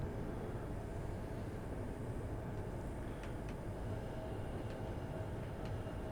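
A train in Train Sim World 5 on the London Overground, rolling slowly across a river bridge: a steady, continuous low rumble with faint metallic ticks and no talk.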